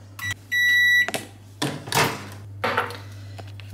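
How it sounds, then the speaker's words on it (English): A microwave oven heating food for about 20 seconds gives out a steady electronic beep of about half a second, followed by clunks and rustles from the door and handling nearby. "Okay, in the microwave first for 20 seconds."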